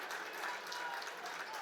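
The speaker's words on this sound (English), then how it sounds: "Well, the Verona fans on their feet cheering on" Basketball fans in a gym applaud and cheer at a boys high school game, a short burst of steady crowd noise with faint voices mixed in.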